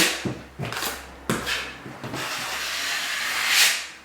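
A giraffe drywall sander works over plasterboard joints with a steady abrasive rubbing hiss, a few sharper scraping strokes early on, then a long smooth sanding whoosh that swells near the end.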